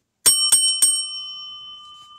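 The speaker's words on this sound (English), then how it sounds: "I paid my dollar to the envelope and I got to ring the bell." A small bell is struck three quick times in a row, each bright ding overlapping into a clear, lingering ring that slowly fades, close up and alone.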